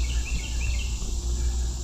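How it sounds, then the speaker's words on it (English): Birdsong and insect chirping in a summer park near a bridge with a wooden floor and steel sides, light chirps drifting over a steady low rumble. "Let's listen to the birds."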